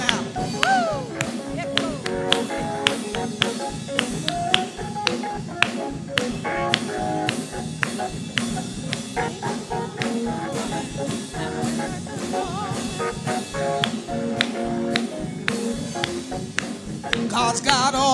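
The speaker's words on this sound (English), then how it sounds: "Come on, clap those hands now." A church congregation clapping hands in rhythm during a worship song, sharp regular claps over an organ and singing voices at a steady gospel tempo.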